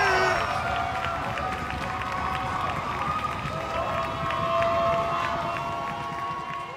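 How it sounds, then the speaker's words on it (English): A live audience at a rap performance claps and cheers, with a steady rhythmic beat of clapping running under sustained crowd noise and tonal music throughout. "So I want everybody in the building to clap your hands, make some noise"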